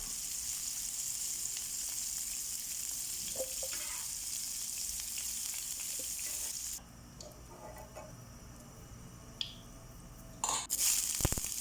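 Cauliflower frying in oil in a pan, a soft continuous sizzle with occasional light clinks and stirring, quieter in the second half before a few louder clatters at the end.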